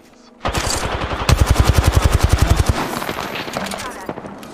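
Rapid automatic gunfire in the battle royale game Apex Legends, a long burst of evenly spaced loud shots lasting about two seconds, followed by a fading tail and faint voice chat.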